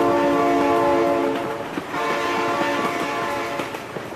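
A train blares its horn in a sustained chord in the BeamNG.drive driving game, then rumbles and clatters past with rolling wheel noise, loud and close.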